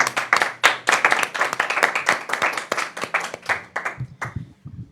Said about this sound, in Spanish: vamos a comenzar igual con un aplauso